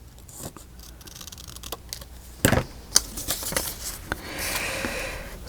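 Paper is cut by hand for a mini album page in faint, uneven snips and rustles, with a sharper crisp cut in the middle and handling noise toward the end.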